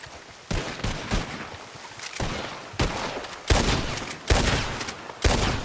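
Bursts of video game gunfire break out in a role-play shooter session, sharp loud volleys arriving in clusters with brief gaps between them, growing heavier toward the end.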